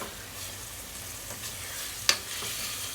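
Chicken and glass noodles sizzle and crackle steadily in a hot pan while being stir-fried, with a sharp clink of a utensil partway through.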